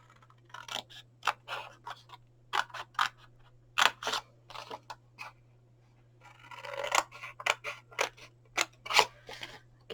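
Scissors cut a paper chocolate gift box along its score line, giving a series of crisp, close snips in an uneven rhythm with a quiet steady hum underneath.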